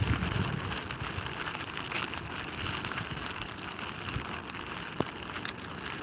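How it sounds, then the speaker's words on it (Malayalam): Steady broadband hiss of heavy rain falling outdoors at Mundakkai, Kerala, constant and fairly loud, with a single sharp tap near the end. "നല്ല മഴ വരുന്നുണ്ട്"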